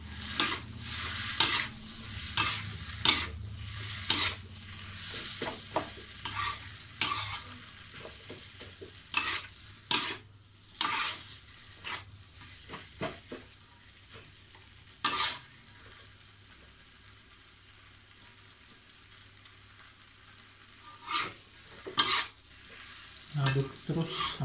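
Kwetiau noodles frying in a pan, stirred with repeated scraping strokes over a steady sizzle; the strokes come in irregular bursts, with a quieter stretch of sizzling before they resume.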